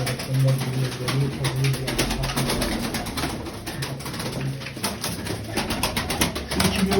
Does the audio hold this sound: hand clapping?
no